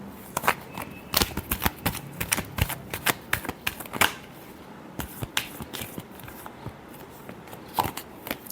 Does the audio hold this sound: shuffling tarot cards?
yes